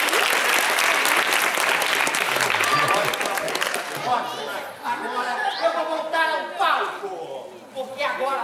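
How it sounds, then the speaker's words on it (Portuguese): Circus audience applauding loudly after a telepathy act, dense clapping that fills the first half then thins out, with crowd chatter and voices emerging as the clapping fades. "Aplausos para a Fofa"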